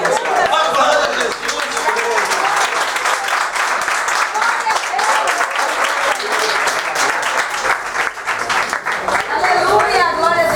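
A Pentecostal church congregation applauds in a dense, sustained burst of clapping that stays loud throughout, with a few voices mixed into the crowd.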